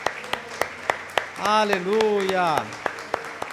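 A church congregation claps along in a steady, evenly spaced rhythm, with sharp, distinct claps heard throughout. A single voice sings or calls out in the middle of the clapping.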